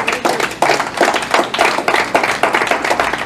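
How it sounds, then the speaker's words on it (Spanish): Church congregation applauding the Lord during a sermon, a dense, steady burst of many hands clapping close by for several seconds. "Fuerte el aplauso al Señor."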